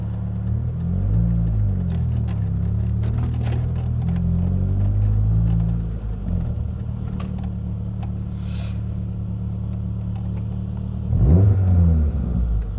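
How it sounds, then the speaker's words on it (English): A 1999 Mitsubishi Eclipse GS Spyder's 2.4-liter four-cylinder idles with a deep, steady rumble, then revs up sharply in a loud surge near the end, heard up close with no talking. "this sounds like a big beefy four-cylinder"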